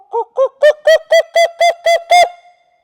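A person imitates the call of a purple-crested turaco in a run of nine loud, evenly spaced hooting croaks, gaining strength then stopping, close and alone.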